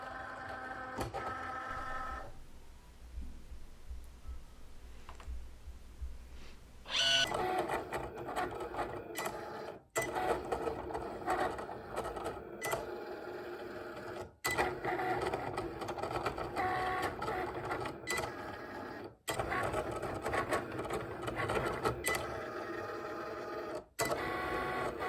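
A Cricut cutting machine set to a custom washi tape setting with increased pressure cuts sticker paper on its mat, giving a steady, busy mechanical whir with rhythmic carriage movements and brief pauses, loud and close with no talking.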